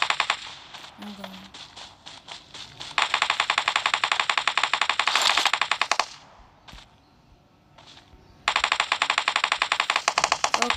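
Automatic gunfire in PUBG Mobile rattles in long, loud, rapid bursts with a brief quiet pause between them, and a voice speaks faintly underneath.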